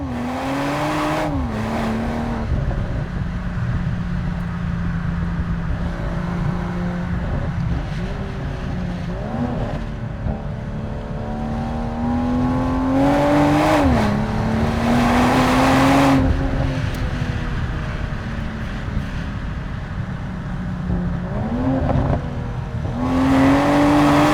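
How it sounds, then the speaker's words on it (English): A BMW M440i's B58 inline-six revs hard under acceleration, its rising and falling engine note swelling through repeated gear pulls, loud and close with steady road noise beneath and no talk. "The B58 has a very specific and unique tone to it."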